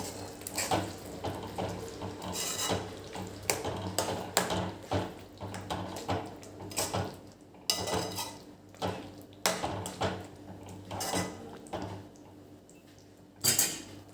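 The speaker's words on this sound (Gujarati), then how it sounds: "છોલે મસાલો એડ કરીશું થોડી કસૂરી મેથી એડ કરીશું હવે આને એક વખત આપણે મિક્સ કરી લઈશું" Chole masala and kasuri methi being stirred into chole in a pan, giving repeated clinks and scrapes of a spoon against metal in an irregular rhythm, close and fairly loud, with no talking.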